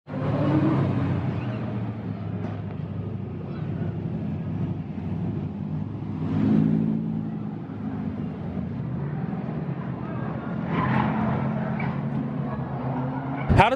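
A drift car with an RB30 engine and BorgWarner turbo drives along with a continuous, moderately loud engine drone, swelling briefly a couple of times, with talk heard over it.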